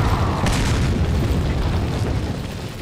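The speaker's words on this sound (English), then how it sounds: "It's time to bust out some of these grenades." A grenade explodes in Resident Evil, leaving a heavy, sustained low rumble with a couple of sharper bursts rolling through it. No one speaks.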